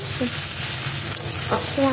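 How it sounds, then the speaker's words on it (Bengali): Okra and onion frying in a pan, a steady close sizzle with small stirring clicks, and a voice briefly audible over it. "ফার্স্টে ঢ্যাঁড়স আর পেঁয়াজটা ভাজা করে নিচ্ছি"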